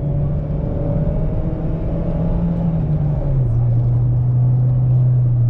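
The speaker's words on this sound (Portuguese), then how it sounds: "Cara, é um carro que vai ganhando velocidade, ele é bem estável." A 108 hp Chevrolet Cobalt LTZ 1.8 with just over 100,000 km accelerating on the road, heard from inside as a steady engine drone and low rumble whose pitch climbs, then drops at a gear change, loud and continuous.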